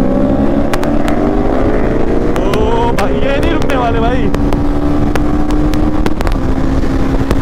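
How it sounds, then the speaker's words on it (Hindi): A Ducati V4S superbike engine revs hard nearby, its whine climbing in pitch under heavy wind rush, with someone shouting over the steady roar. "2000 सीसी की बाइक चल रही है सीसी के साथ।"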